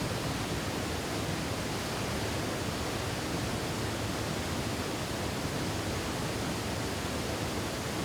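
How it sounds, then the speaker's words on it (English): Vermillion Falls in Minnesota running high, a steady, dense roar of rushing water, constant and enveloping with no other sounds or voices. "we got to see the waterfalls here, the Vermillion Falls, in their raging glory."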